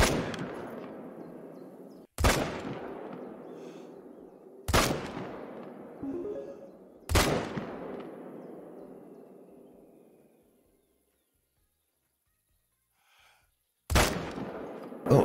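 Rifle shots in the hunting game theHunter: Call of the Wild on the Vurhonga Savanna: five sharp, loud single shots spaced seconds apart, each ringing out with a long echoing decay into open quiet.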